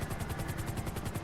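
A helicopter flies in a video game, its rotor beating in a steady, rapid thump that stays loud and close throughout, with no talking over it.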